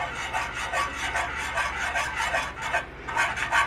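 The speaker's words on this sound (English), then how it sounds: "I'm going to whisk it up" A whisk beats flour in a pan in steady, rapid strokes, a rhythmic scraping and rubbing that repeats close and fairly loud with no voices.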